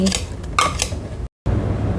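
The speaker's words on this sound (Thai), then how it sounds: "ใส่เผือกลงไปให้หมดเลยค่ะ ที่เราเตรียมไว้" Prepared taro pieces for Thai taro custard are tipped into a blender, giving a few quick clinks and clatters of utensil against the container, then a short gap and quieter rustling.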